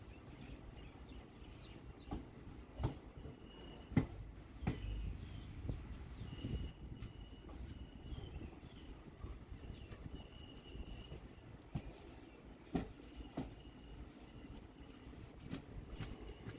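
Matsyagandha Express running after leaving Udupi in monsoon season, a low steady rolling rumble from on board with faint rhythmic clicks of the wheels over rail joints.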